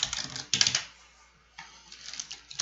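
Short bursts of computer keyboard typing while writing C# code, quick clustered key clicks near the mic, separated by quiet pauses.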